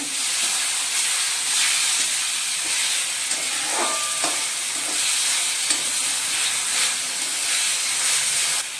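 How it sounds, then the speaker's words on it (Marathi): Mashed eggplant being stirred into fried onions in a hot pan, giving a steady close sizzle and hiss with soft scraping from continuous mixing and no talk. "कांदा आपला चांगला भाजून झालेला आहे आता आपण त्याच्यामध्ये बारीक केलेलं वांग टाकूया मिक्स करून घेऊया"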